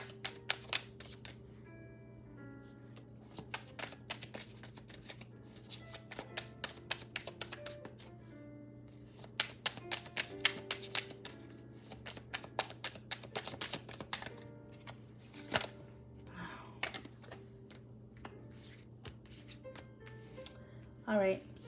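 Tarot cards being shuffled and handled: sparse crisp flicks and riffling snaps, close but light, under a steady background hum with a person talking.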